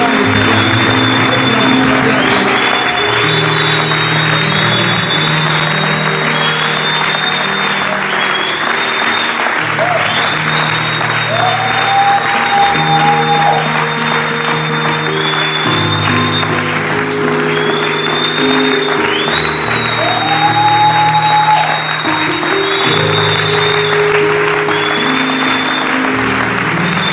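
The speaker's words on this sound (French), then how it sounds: "Je veux que tu acclames le Seigneur" Sustained loud applause from a church congregation acclaiming the Lord, continuous dense clapping over a sung melody and held organ-like chords, with a voice calling out above the crowd.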